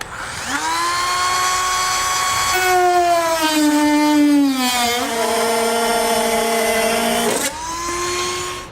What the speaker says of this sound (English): I'm going to use a Dremel tool to cut this area out